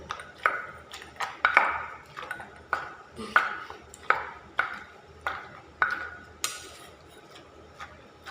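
Jackfruit soup ingredients pounded in a mortar: a steady series of about a dozen sharp, ringing pestle strikes, each close and distinct and spaced roughly half a second apart.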